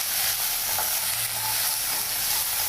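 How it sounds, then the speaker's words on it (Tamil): Onion and garlic sautéing in hot oil for an okra kuzhambu make a loud, continuous sizzle close to the pan, with faint stirring and no voices. "வெங்காயம், பூண்டு எல்லாம் போட்டுக்காங்க."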